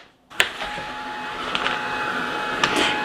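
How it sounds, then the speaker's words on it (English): A heat tool blows steadily on paper freshly misted with Distress Spritz ink, a continuous mid-loud whir that starts abruptly after a brief silence and holds with small clicks and bumps. "what I do really like to do after I've added Distress Spritz is to heat it and dry it."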